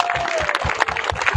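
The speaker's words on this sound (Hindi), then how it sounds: "जोरदार ताली बजाएं।" Church congregation clapping in rhythm during a Hindi worship service, a steady run of handclaps with a sustained tone and voices mixed in over the beat.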